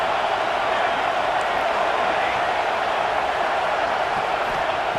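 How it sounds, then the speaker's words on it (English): Dense roar of a football stadium crowd at a Penn State versus UCLA game, a steady loud wash of noise with no breaks. "And here comes the noise. This crowd is trying to inspire this defense to make a big red zone stop."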